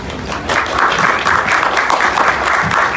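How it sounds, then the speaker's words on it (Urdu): Loud, close applause from a forum audience during a talk by Miftah Ismail, a dense burst of many people clapping that fills the room steadily for a few seconds. "امینہ صاحبہ نے تالی بجا دی"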